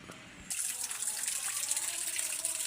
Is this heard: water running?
yes